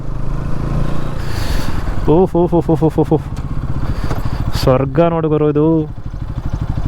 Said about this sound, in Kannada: ನಮ್ಮ NS ಹೆಂಗೆ ಓಡುತ್ತೆ ಅಂದರೆ ಒಂಥರ ಆಫ್ ರೋಡಿಂಗ್ ಬೈಕ್ ಆದಂಗೆ ಆಗ್ಬಿಟ್ಟಿದೆ ಇದು.